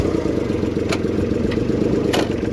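A tractor engine runs loud and close with a steady, throbbing low chug, a couple of brief metallic clanks cutting through.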